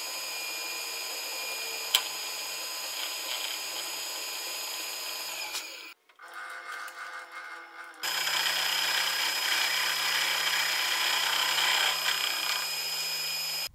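An end mill machines a small mounting pad meant to index a cut-off piece of a Garmin mount, giving a steady high-pitched whine that stops briefly midway, then resumes louder and continuous with no voices.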